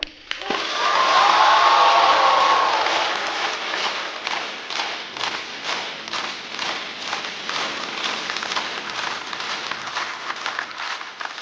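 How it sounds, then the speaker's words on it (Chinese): A stand-up comedy audience breaks into loud, dense clapping that gradually thins into scattered, lighter claps, with a brief cheer early on. "掌声欢迎"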